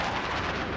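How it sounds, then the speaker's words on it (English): Dense, rumbling explosions fill a World War II battle scene over a burning city in an animated fantasy audio drama, a continuous booming roar that stays loud throughout the brief moment. "Explosions rock the squadron."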